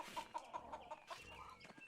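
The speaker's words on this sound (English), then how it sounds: "Why does the chicken sound like a sheep?" A chicken in the video game Pentiment clucks in a quick run of short, rhythmic calls at low volume, the notes bleating slightly like a sheep; no talk during it.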